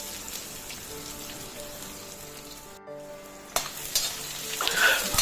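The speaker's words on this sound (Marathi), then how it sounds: "लगेच कांदो घालायचो आणि गुलाबी रंग येईपर्यंत परतायचो त्याला" Onions sautéing with garlic in a pan for Malvani-style black pea sambar, a steady close sizzle with a brief dip midway, then louder stirring scrapes and crackle toward the end; no talking.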